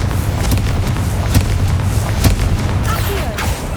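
Spells cast in the video game Hogwarts Legacy, including the Confringo explosion spell, produce several sharp booming bursts spaced about a second apart over a continuous low rumble, with faint swooshing effects toward the end.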